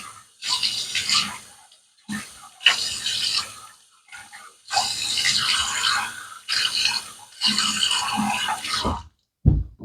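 Shaving gear, including a 1962 Gillette razor, rinsed under a running tap: close, splashy bursts of water that start and stop in several separate runs with brief quiet gaps between them.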